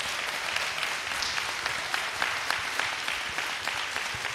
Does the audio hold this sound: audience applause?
yes